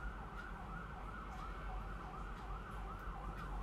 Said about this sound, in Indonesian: ada suara ambulan lagi.